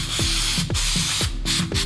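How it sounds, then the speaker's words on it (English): Air mass cleaner hisses in a few quick spray bursts onto a mass air flow sensor that carries an oil residue, loud and close, with no talking. "We're gonna spray it with this. With air mass cleaner, right?"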